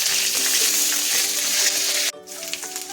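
Cumin seeds and onion paste fry in hot oil, a loud, dense sizzle filling most of the clip before dropping abruptly to a softer crackle near the end, with no voices.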